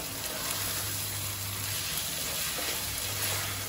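Tomatoes and salt fry in a pan as they are mixed, giving a dense, steady sizzle that stays loud and even throughout, with faint stirring movements beneath it.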